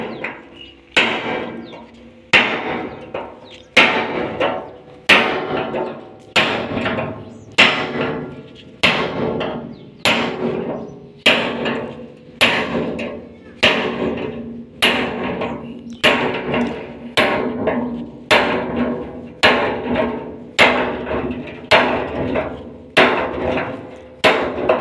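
Hammer driving a chisel into a metal drum, about twenty loud ringing strikes at a steady, unhurried pace, each blow clanging and decaying, close up with no talking.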